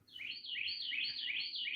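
Small birds chirp outdoors in a quick, steady run of high, bright repeated notes, close and clear, with no voices over them.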